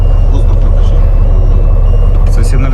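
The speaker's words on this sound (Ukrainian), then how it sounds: "А чути, да, така сигналізація пікає." Inside a Turkish Kirpi armoured vehicle, an air pressure warning alarm beeps as a steady high tone over a loud, constant engine rumble, with people talking nearby.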